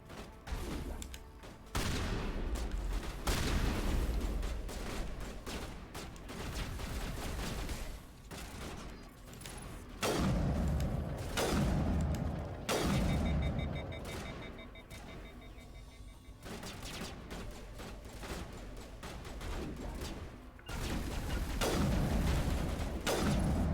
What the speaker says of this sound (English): It's like they're just shooting me.